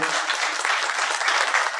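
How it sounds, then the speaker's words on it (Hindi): Audience at a Hindi comedy play performance breaks into sustained applause in a hall, a continuous, moderately loud patter of many hands clapping without a break. "मैं चाहूंगा एक बार जोरदार ताली से आप लोग।"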